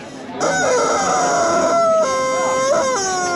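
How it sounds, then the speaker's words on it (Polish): A rooster crows loudly on a street in Thailand, one long drawn-out call and then a second rising crow, set against steady street background noise. "Czyli słynny kurczak, tak?"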